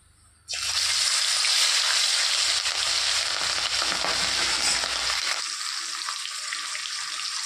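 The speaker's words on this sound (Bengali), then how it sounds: "মাছগুলো প্রায় আমার ভাজা হয়ে গেছে।" Pieces of hilsa fish hit hot oil after a brief quiet moment, and a loud sizzle bursts out at once and holds steady before easing off slightly toward the end.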